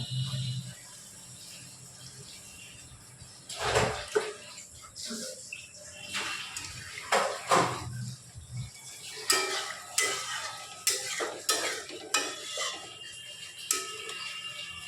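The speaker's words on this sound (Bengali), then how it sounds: "সামান্য পরিমাণ জল আমরা দিয়ে দেব" Water poured into a pan of katla fish curry with boiled potatoes, heard as soft splashing and pouring among scattered clinks and scrapes of utensils against the pan, moderately close.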